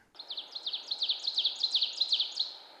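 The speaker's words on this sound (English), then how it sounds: "Ovenbird, teacher, teacher, teacher." A bird sings a rising series of about eight repeated two-part chip phrases that grow louder, like an ovenbird's emphatic song, over a soft background hiss.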